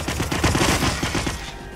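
Rapid enemy gunfire in the video game Hitman, a dense crackling fusillade of overlapping shots at steady loudness for most of the span, thinning out near the end.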